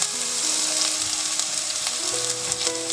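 Onions and finely chopped fenugreek leaves fry in a pan with a continuous, close, loud sizzle, and faint tonal music sits underneath.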